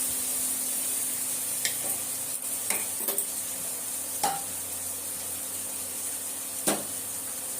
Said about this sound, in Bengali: মশলাটা কষিয়ে নিচ্ছি পেঁয়াজ সহ।